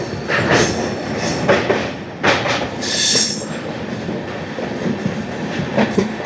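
A passenger train runs loudly along the rails just past Kottayam station, with rhythmic wheel clatter, bursts of squealing flanges and a sustained rushing roar from close inside or beside the moving carriages.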